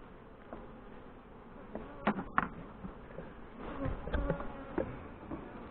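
Honey bees hum and buzz at a hive entrance, a steady low drone with a few louder passes up close partway through.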